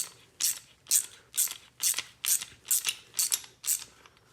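A ratchet wrench tightening a 17mm nut on an LED rock light mount clicks in nine crisp, evenly spaced bursts, close and fairly quiet, with no voices.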